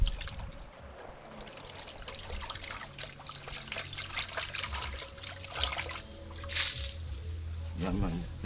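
Water trickles and splashes steadily as salt fish is washed for a Jamaican ackee and saltfish meal, a soft continuous running-water sound with someone talking over it.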